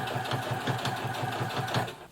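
A Brother FS60X sewing machine punches its needle through three layers of denim, a steady rapid mechanical stitching rhythm running loud and close throughout.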